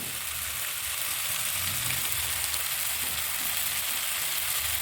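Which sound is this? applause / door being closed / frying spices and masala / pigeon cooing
frying spices and masala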